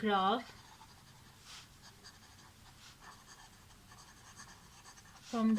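Pen scratching steadily across paper while a math solution is written by hand, close and continuous, with brief bursts of tonal sound at the start and end.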